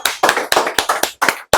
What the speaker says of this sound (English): let's give a round of applause to my good friend